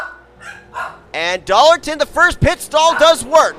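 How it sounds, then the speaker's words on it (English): Dogs barking in the background during a stock car racing commentary, faint yips and barks mixed beneath a commentator's steady, prominent speech. "Apologize for the dogs barking."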